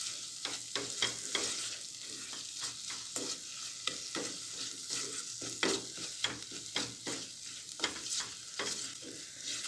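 A soup base with salt is sautéed in a pot, a soft crackling sizzle broken by repeated sharp scraping and stirring knocks, close and with no talk.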